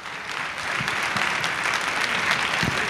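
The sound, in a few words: audience applause welcoming speaker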